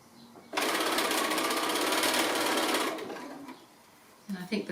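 A sewing machine runs at a steady fast buzzing whir for a couple of seconds while joining quilt block rows, then slows and stops, followed by a few soft handling clicks nearby.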